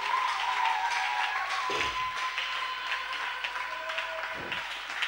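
A church congregation claps and applauds steadily in a reverberant hall, with a couple of thumps and faint voices mixed in throughout.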